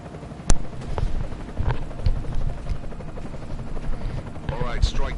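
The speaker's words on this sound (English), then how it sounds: "Enemy helo sighted." An enemy helicopter in the video game Deus Ex Mankind Divided gives a steady rotor thrum under game radio chatter and effects, while a person talks over it.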